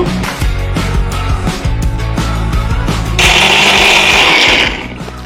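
A kitchen mixer grinder whirs loudly up close while grinding coconut and garlic, its motor pitch rising into a harsher, brighter whine partway through before settling back down.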